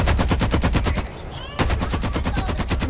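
Rapid automatic gunfire in Farlight 84, loud and close, fires in an even stream of shots, breaks off briefly at about one second, then resumes just as fast to the end.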